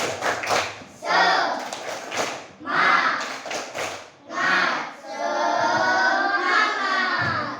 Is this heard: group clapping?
yes